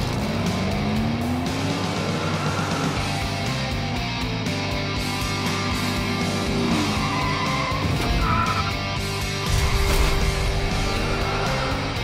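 Diecast toy cars race down a track in a tournament heat, a continuous rolling, whirring rumble with rattling bursts and squeal-like tones throughout, loud and close, with no talk.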